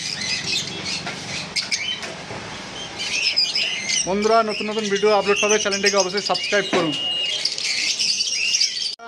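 Caged lovebirds, Java sparrows and cockatiels at a bird sale chirp and squawk in a busy chorus, with someone talking loudly over the birds through the middle of the stretch.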